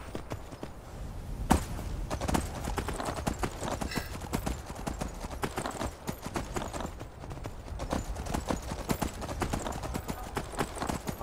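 Horse hooves clip-clop in the video game Skyrim, a quick, steady run of close hoof strikes with no talking.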